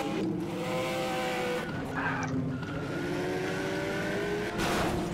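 A Ferrari F49 in a vehicle simulator game drives with a steady, loud engine tone that holds and shifts in pitch, with tire noise under it and no talking.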